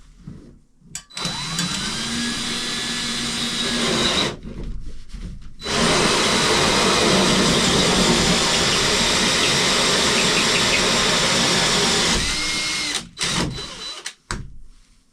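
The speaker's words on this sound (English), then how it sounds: "We'll drill a hole and run some wire." Power drill boring a hole for fan wiring, two long bursts of steady whirring grind, the second running about seven seconds, separated by a brief pause and ending with short spin-downs and quiet handling noise.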